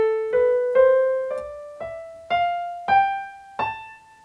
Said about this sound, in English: the minor scale sounds like this.